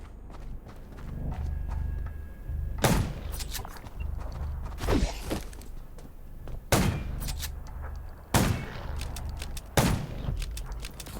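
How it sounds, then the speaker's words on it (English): Gunfire from the zombie survival video game Undawn comes as several loud, sharp reports spaced unevenly a second or two apart. Heavy footsteps and a low game rumble run underneath, with no speech. "Gunshots will attract more."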